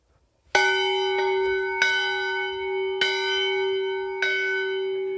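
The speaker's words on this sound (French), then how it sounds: "On va les prévenir de notre arrivée avec cette cloche." A village bell in Majastre, a tiny hamlet in France, is struck four times at an even, unhurried pace, each clear metallic toll ringing on and overlapping the next in a quiet outdoor setting.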